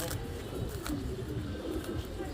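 Sapchila pigeons coo softly and steadily in a dense, continuous murmur, a faint flock sound with no clear pauses.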